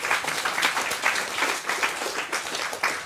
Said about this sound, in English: I would give you a round of applause